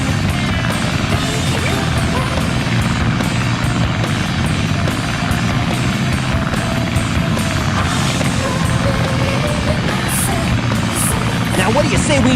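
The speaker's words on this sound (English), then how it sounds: "This plane's cool!" A plane flying in the Sonic Adventure DX video game gives a loud, steady propeller-engine drone that runs unbroken through the whole stretch.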